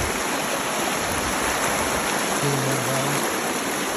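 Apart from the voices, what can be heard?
creek water flowing while gold sluicing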